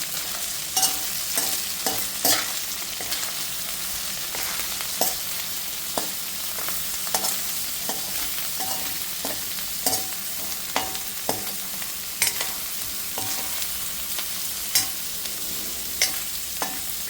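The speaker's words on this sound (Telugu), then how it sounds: "ఇప్పుడు ఒకసారి కలుపుకోండి" Curry being stirred in a frying pan after salt goes in, with a steady sizzle underneath and repeated sharp scrapes and clacks of the spoon spread evenly across the whole stretch.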